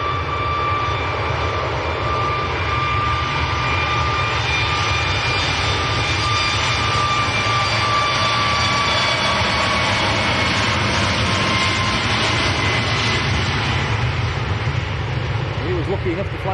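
A TUI passenger jet bound for Boa Vista, Cape Verde, roars steadily at Manchester Airport, its loud sustained engine noise holding throughout with whining tones, while people talk over it.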